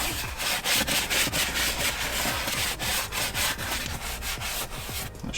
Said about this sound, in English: taking a dedicated leather brush and just starting to work it in circles